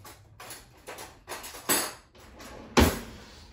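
Cutlery and a drawer clatter in a kitchen as a spoon is fetched: several short metallic knocks and rattles, ending in one louder bang near the close.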